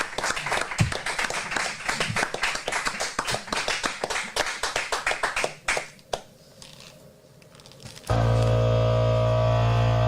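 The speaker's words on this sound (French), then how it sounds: "le public va t'applaudir, on va t'applaudir" Audience applause closes a French TV music broadcast, dense clapping from a crowd that thins out toward the end, then gives way abruptly to a loud musical passage.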